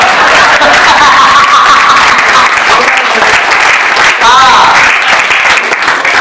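Sustained loud applause from an audience at a Holi kavi sammelan poetry gathering, a dense wash of clapping across the whole clip with some crowd noise mixed in.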